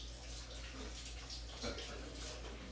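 Tap water runs into a kitchen sink for hand washing, a quiet steady hiss and splash at low level with faint background room sound.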